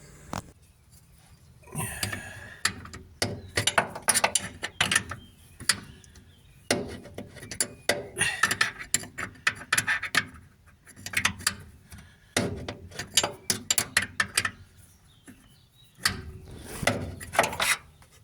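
Nuts being loosened on the front shock absorbers of a Renault Dauphine, irregular close metallic clicks, ratcheting and clanks in repeated bursts with brief quiet gaps.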